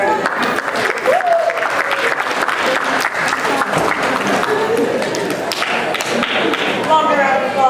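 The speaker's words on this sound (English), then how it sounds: "Can we have a round of applause for her?" An audience gives a round of applause, steady dense clapping throughout with a few thuds and voices calling out over it.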